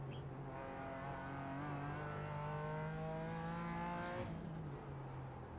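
GT3 race car in iRacing closing in at the Nürburgring, its engine note climbing steadily through the revs in a smooth harmonic whine before dropping sharply as it shifts, over the constant drone of another car.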